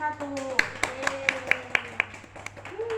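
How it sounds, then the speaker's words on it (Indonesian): A small group of students claps for their classmates in an Indonesian classroom lesson, a handful of sharp, spaced claps in a loose rhythm, with voices talking over and around them. "Beri tepuk tangan untuk kelompok 1"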